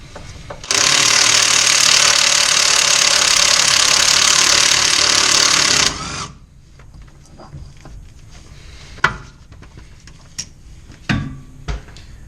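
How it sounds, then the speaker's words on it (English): A cordless impact wrench fitted with a wobble extension and 12mm socket removes CV axle bolts on a first-generation Xterra with the tire still on. It gives one loud, steady rattling burst of about five seconds, followed by quiet clinks and taps. "a cordless impact wrench with a wobble extension that allows a 12mm socket to go at off angles"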